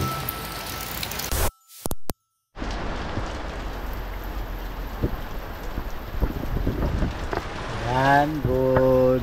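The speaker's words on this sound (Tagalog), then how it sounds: "At maulan na umaga ngayon guys, maulan." Rain falls steadily on a rainy morning outdoors, a dense continuous patter broken by a brief dropout, with a voice speaking over the rain near the end.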